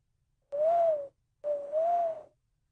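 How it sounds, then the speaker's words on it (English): Two soft, hooting bird-like calls come in quick succession, each a smooth cooing tone resembling a dove. The calls are close and clear against silence. "3 hours later, she heard Nick's soft bird call."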